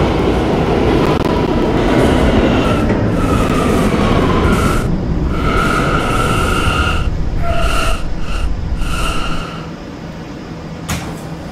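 A Roblox video game R179 D subway train rumbles steadily along the tracks, with loud rolling noise and brief tonal squeals and hums, easing off near the end.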